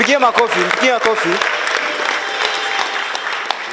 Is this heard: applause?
yes